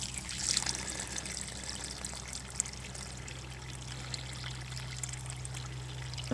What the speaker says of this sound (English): So if we pour some more water into this neighboring hole here